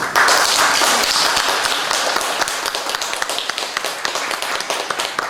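An audience claps for a guest being introduced at a talk about women labor leaders at Dongil Textile, dense applause at first that thins into a scattering of distinct, close individual claps.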